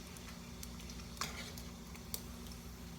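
Bacon sizzling in a frying pan while bread is being made for BLT sandwiches, a quiet steady crackle with a few sharp ticks and clinks of utensils, no talk.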